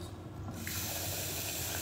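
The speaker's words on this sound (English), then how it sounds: "you always wash your rice until the water is kind of clear" Rice is rinsed in water, with a steady rushing of running water that holds at a constant level. It is close and loud, with no talking.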